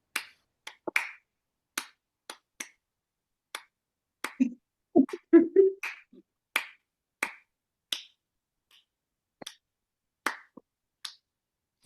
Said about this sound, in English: now follow one other person and clap in time with them